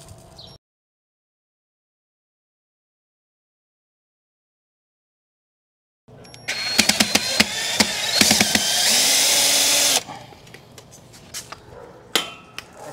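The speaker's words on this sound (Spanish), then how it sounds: "Vamos a quitarlo con la ayuda de un desarmador eléctrico." After a long silence, an electric screwdriver whirs in short bursts and then a sustained run while an old hose holder is taken off, with clicks and knocks of metal and plastic handling around it.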